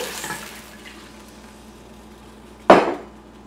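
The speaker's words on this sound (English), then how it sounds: "you take a pan and you put water in it." Water splashes sharply into a kitchen pan in one short burst, following a stretch of low background hiss.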